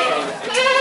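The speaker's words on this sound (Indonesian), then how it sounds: "Lihat anak kambing." A young goat bleats close by in a wavering, tonal cry that rises toward the end, while people talk in the background.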